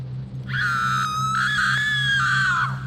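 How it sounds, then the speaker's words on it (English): A long, high-pitched human scream rises in the distance at a cemetery, holds steady for about two seconds, then trails off, with a low steady hum underneath. "We hear what sounds like someone screaming out in the distance"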